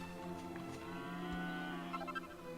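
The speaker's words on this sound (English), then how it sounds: "Let's talk to the cow." A cow in the video game Dragon Quest VIII on PS2 gives a single drawn-out moo over steady game music, loud and close, with no talk.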